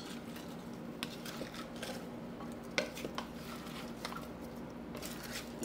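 Sausage, shrimp, potatoes and corn with seasonings and butter being tossed in a crockpot, a soft, quiet patter and clink of utensil against the pot with low background hum.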